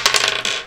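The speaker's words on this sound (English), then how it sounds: "He rolls the dice again." Dice rolled on a table during a Catan board game, giving a quick cluster of sharp clattering taps and bounces in under a second, close and fairly loud with no talk.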